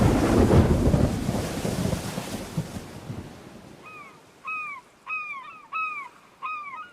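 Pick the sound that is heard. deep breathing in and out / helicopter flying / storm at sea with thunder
storm at sea with thunder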